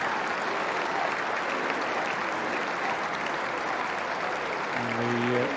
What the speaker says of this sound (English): the packed house here at Lord's applauding the efforts of Paul Collingwood